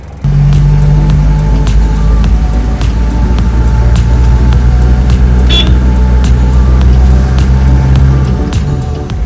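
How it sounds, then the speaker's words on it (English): An Ambassador car engine idles steadily while warming up, with a low, constant rumble and slight fluctuations, running alone without talk throughout. "let me just make sure this car is warmed up properly"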